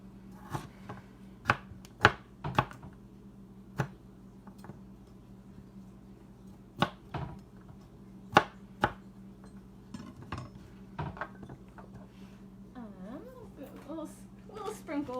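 Knife slicing sweet potatoes on a cutting board for a pet Eastern gray squirrel's snack, a series of sharp, close chops spaced irregularly over a steady low hum, with light kitchen clatter.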